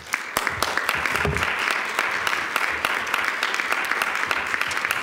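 An audience applauds as Senator Mike Lee is welcomed to the stage, a sustained, even round of clapping with sharp individual claps standing out, filling the whole stretch.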